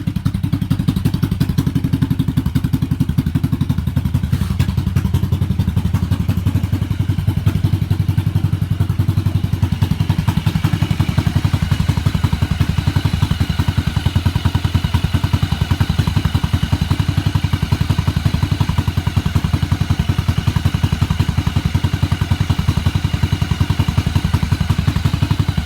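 A 1986 Yamaha XV750 V-twin motorcycle, fitted with a single-carburetor manifold and running rich, idles steadily through its first run, a loud continuous low rumble with mechanical clatter throughout.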